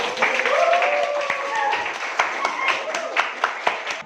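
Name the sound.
class applauding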